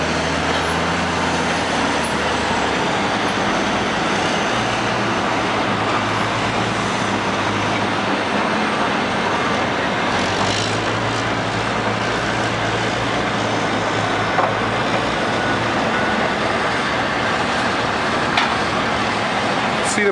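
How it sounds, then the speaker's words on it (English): Foremost Commander rig carrier crawling along on pony subs, a steady loud diesel drone with low engine hum and continuous mechanical rumble throughout, no voices. "The Commander's got the pony subs, and he just crawls around like nothing."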